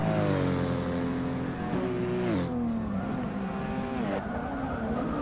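A race car in Forza Motorsport 6 brakes hard and skids at Sebring International Raceway, loud engine tone dropping in pitch as tires squeal, sustained and close throughout.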